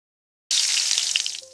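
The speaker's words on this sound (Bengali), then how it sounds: "এবার গরম তেলে চিংড়িগুলো হালকা করে ভেজে তুলে নিন" Turmeric- and salt-marinated prawns hit hot oil for a prawn malai curry, bursting into a loud, bright sizzle with scattered crackles and pops after a moment of silence, easing slightly toward the end.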